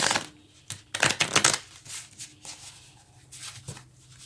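Tarot cards being shuffled in a run of crisp, riffling flutters and soft slaps, loud bursts early that settle into lighter, steady card rustling, with no talk.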